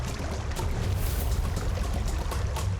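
Rushing water from a waterfall beside an ancient rock-cut cave temple, a steady broad roar holding evenly throughout with no voices.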